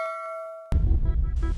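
A notification bell sound effect rings a clear, sustained ding that fades, followed by a sudden louder clanging burst of noisy, metallic sound.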